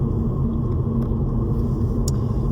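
A car driving along a snowy mountain road, giving a steady, continuous low rumble from inside the vehicle with no talking.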